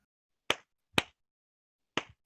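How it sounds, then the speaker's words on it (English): Three sharp hand claps indoors, two in quick succession then a pause before the third, crisp and close with no talking. "I'm clapping my hands there."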